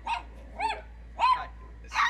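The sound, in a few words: dogs barking at strangers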